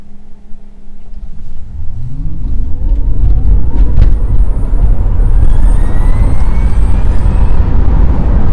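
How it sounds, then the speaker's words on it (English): A dual-motor Tesla accelerates hard from inside the cabin, its electric motors producing a rising high-pitched whine that climbs steadily over a loud, deepening road rumble. "when I fully step on it, it's funny. It honestly kind of reminds me of the Hellcat, but it's not like a whine. It's more of a like high-pitch whine"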